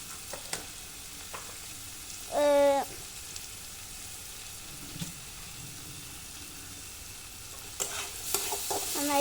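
Fried rice being stirred in a hot pan with a spoon, a soft steady sizzle underneath and one brief clattering scrape of utensil against pan midway, then a few more clinks near the end.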